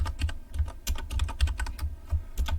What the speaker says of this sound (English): I don't even care that I'm typing it wrong, honestly.